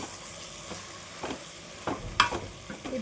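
A spoon stirs chili powder into a sizzling sambar base frying in a pan, with soft scraping strokes over a low, steady sizzle and a couple of sharper clinks near the end, heard close up with no talking.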